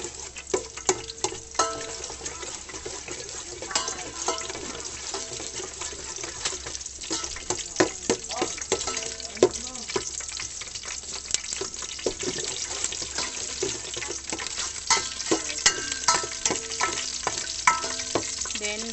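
Garlic frying in a pan for Bisaya-style lomi, a steady close sizzle with frequent scraping and clinking of a utensil as it is stirred, continuous throughout with no talking.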